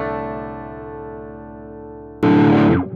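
An electric guitar played through a NUX Metal Core Deluxe MKII distortion pedal: a sustained chord rings out and decays, then a loud, heavily distorted strum crashes in and cuts off abruptly.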